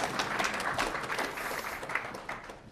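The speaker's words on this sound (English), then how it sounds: "You can applaud." Applause from a speech audience, a steady wash of many hands clapping at moderate volume for a few seconds, heard from within the room, without speech.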